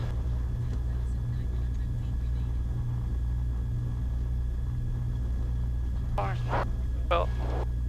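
Small aircraft taking off from a runway, heard as a steady low engine drone with a persistent tonal hum, with radio chatter and voices over it near the end.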